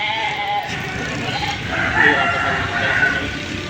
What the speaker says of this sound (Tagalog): mayroon din pong mga tupa na dumating dito sa Padre Garcia